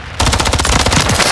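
A loud, close burst of fully automatic gunfire in the shooter Warzone 3, fast evenly spaced shots starting abruptly and continuing without pause.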